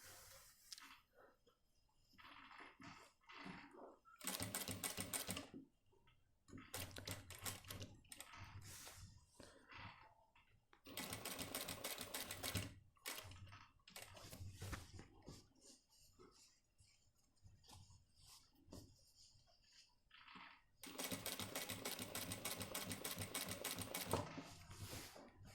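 Sewing machine stitching a shirt sleeve and cuff, running in several separate bursts of rapid, even stitching with short quiet pauses and handling noise between them, fairly close and alone without talk.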